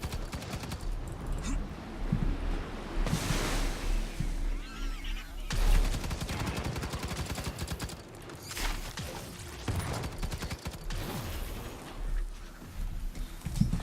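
Repeated gunfire from a weapon in the video game Firefall cracks out in dense, loud bursts over continuous game noise.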